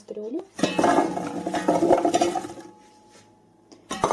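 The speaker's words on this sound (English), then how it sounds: "Let's place our pot" A cooking pot is set down with a clattering metallic clunk, followed by rattling and a shorter knock at the end, with a voice talking over the sounds.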